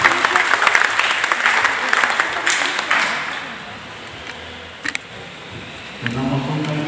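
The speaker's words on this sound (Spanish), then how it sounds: "Un aplauso nuevamente." A church congregation at a Corpus Christi celebration applauds in a dense burst that fades into a quieter room, with a few sharp clinks and a low hum near the end.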